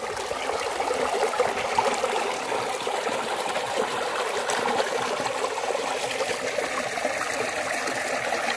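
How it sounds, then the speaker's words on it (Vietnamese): A rocky stream flows steadily, its continuous close trickling and babbling water running evenly throughout with no voices over it. "Đây đây, địa điểm này được gọi là suối đá nha các bạn."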